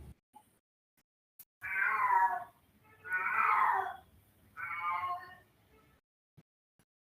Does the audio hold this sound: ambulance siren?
no